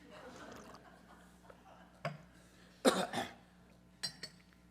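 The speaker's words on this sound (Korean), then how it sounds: "기침이 다 나오네." Two short, sharp coughs from one person nearby in a church service, a few seconds apart, with a fainter throat-clearing burst just before them in a quiet room.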